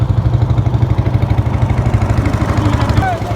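A motor boat engine chugging as the boat crosses a river, a loud, close, rhythmic low thumping that runs steadily throughout with a voice talking over it.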